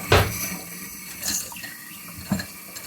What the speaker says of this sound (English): I just forgot to wash the kale.